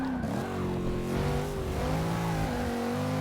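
A Dodge Hellcat V8 in a modern American muscle car revs with a steady, throaty engine tone whose pitch rises and falls slightly, moderately loud with no talking.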